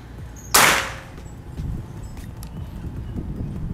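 A Marauder Bulldog V2 PCP air rifle, double-track setup, fires a Hercules pellet in a single sharp, loud crack followed by a short decay, with quiet background afterward.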